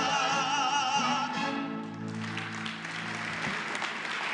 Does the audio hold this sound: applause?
yes